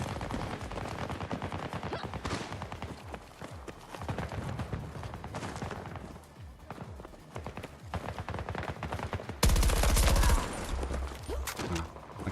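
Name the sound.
AAK rifle firing rapidly in a video game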